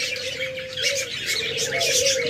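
A pair of diamond doves calls from a cage at a bird sale, with soft coos over several quick, bright chirps from other birds nearby, close and fairly clear.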